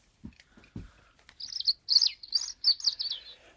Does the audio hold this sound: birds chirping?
yes